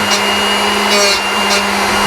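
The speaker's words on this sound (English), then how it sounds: "you want to make sure that the grinding wheel's hitting on the bottom flutes" A bench grinder wheel whines steadily as a drill bit is sharpened against it, a loud close motor hum with a few brief hissing bursts of grinding contact.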